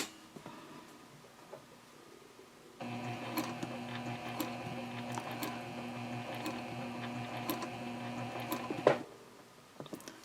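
A sewing machine runs a seam down the side of a fabric tote bag. A few soft handling clicks come first, then a steady motor hum with a fast stitching drone for several seconds, and it stops with a small clunk.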